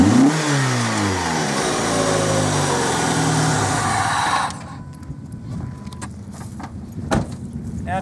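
A stock-looking 2005 Dodge Neon fitted with a homemade budget intake starts up and revs hard, its engine note sweeping up and down loudly for several seconds before dropping to a rougher idle with a few sharp clicks.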